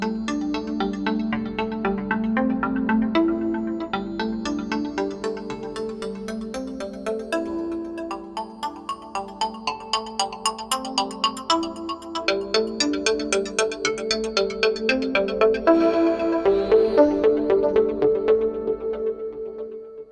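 An analog-style oscillator in Reason synth software plays a melodic sequence whose tuning is modulated, giving bright bell-like tones that rise and fall in pitch across a steady, pulsing pattern with no speech.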